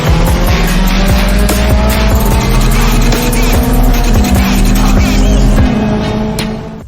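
A 700 HP Mitsubishi Lancer Evolution X races a front-wheel-drive Hyundai Elantra with manual transmission, a loud close roar of engines and squealing tires as the cars launch and pull away, with faint voices underneath.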